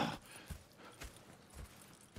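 Horse hooves clip-clop in Red Dead Redemption 2, four or five soft, evenly spaced thuds at a slow walking pace, faint and close with no talk.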